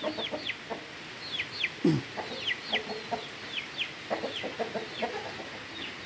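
Chickens, including an old rooster, cluck and chirp in short, repeated bursts, with sharp high peeps scattered over a rustling farmyard background and one louder low squawk midway.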